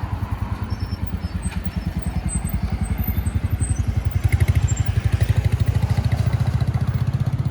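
A motorcycle ridden close by, its engine putting out a steady, dense pulsing that grows slightly louder and rougher toward the end, with no talk over it.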